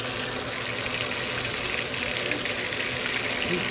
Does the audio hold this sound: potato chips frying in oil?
yes